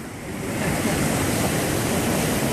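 Floodwater rushes down a ravine in Valencia during a DANA storm, a dense, continuous roar of churning water that builds slightly at the start and then holds steady and loud, with no talking.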